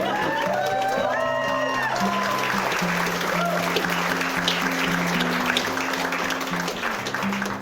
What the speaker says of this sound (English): Shall we give Beth a round of applause?